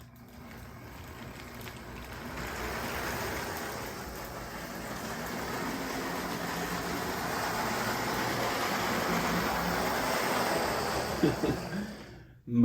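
An HO scale model train locomotive with dirty, sparking wheels runs along its track, a steady whirring rumble that slowly swells and then fades, ending with a few clicks.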